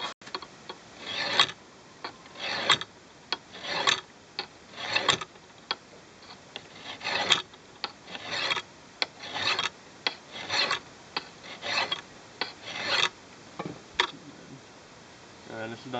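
A file sharpening an axe blade, a rasping scrape repeated in steady strokes about once per second, each stroke a short harsh rub with quiet gaps between, close and clear.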